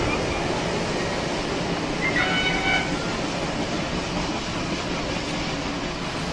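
Logging train hauled by locomotive 33 of Pickering Lumber Corporation passes near Beardsley, a steady heavy rumble of rolling cars with rail clatter and a brief metallic squeal partway through.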